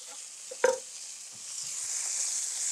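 Chicken sears in a pan with a soft, steady high hiss, as sage is sprinkled in. A single sharp tap or clink comes early, then the sizzle grows slightly louder.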